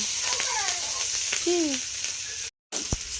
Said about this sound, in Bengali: রসুন আর লঙ্কা কুচি ভাজা ভাজা হয়ে গেল